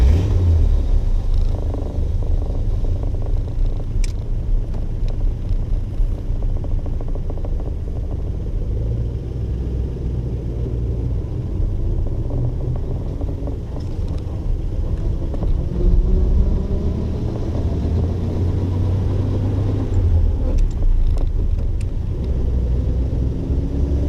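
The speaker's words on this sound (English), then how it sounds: "It starts easily." Unrestored 1931 Pierce Arrow 42 convertible coupe with three-speed transmission driving, its engine a loud, steady low rumble throughout, pitch sweeping upward at times as it accelerates.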